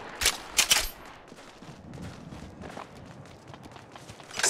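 Gunfire in the mobile battle-royale game Apex Legends Mobile: two loud, sharp bursts near the start, then quieter scattered shots and movement, with another burst at the very end.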